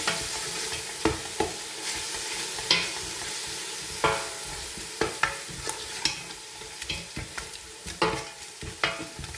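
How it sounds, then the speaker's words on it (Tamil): Ginger-garlic paste for mutton biryani sautés in a pan with a continuous sizzle, while a spoon scrapes and stirs it in frequent, uneven strokes close by. "கொஞ்சம் பச்சை வாசனை போகும் வரைக்கும் இதை வந்து வதங்க விடணும்."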